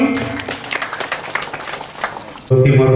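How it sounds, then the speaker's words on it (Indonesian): An audience applauds at a bank-sponsored village event, scattered clapping under a talking voice, then a sudden loud burst of applause in the final half second. "Kita tepuk tangan dulu untuk program ini"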